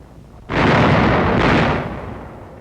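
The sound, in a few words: artillery guns firing at Tokashiki, 1945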